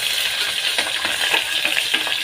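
Carrot and onion frying in oil for vegetable pulao, a steady bright sizzle with faint scraping stirs throughout, close and continuous with no talk.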